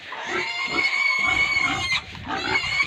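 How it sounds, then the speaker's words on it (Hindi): A pig squeals loudly and continuously at close range, with harsh, strained cries running almost without a break and a short dip near the end. "देखिए ये सुअर बहुत चिल्ला रहा है"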